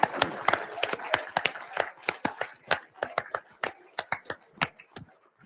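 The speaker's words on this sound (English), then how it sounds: "Let's give them a round of applause" A crowd claps in a round of applause to welcome new team members at a live safety meeting, with sharp uneven hand claps in a steady patter and cheering voices faintly underneath.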